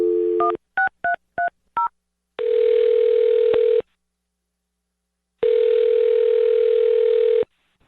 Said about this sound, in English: I'm going to dial his phone number right now then and see if we can get your answer.